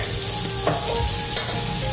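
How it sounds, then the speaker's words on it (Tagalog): Garlic is sautéing in hot oil in a pan that was used earlier for frying. It makes a close, steady sizzle with a couple of soft stirring scrapes. "Iligisa natin yung bawang"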